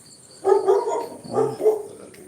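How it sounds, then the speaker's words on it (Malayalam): A dog barks a few times at a moderate distance, two short bursts of barking with a brief pause between them. "അതാ വീട്ടിലെ പട്ടിയാണ്"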